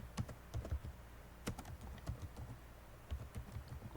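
Quick, uneven keystrokes on a computer keyboard clatter in short bursts with brief pauses, soft and close by.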